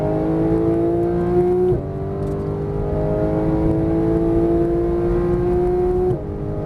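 Porsche GT3 engine accelerating on a race track in Las Vegas, a loud, close, rising whine that climbs steadily in pitch, with two brief drops at the gear shifts.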